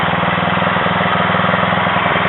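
A Craftsman rear engine rider mower runs steadily after a carburetor cleaning, its small engine chugging loud and close with an even, continuous idle throb.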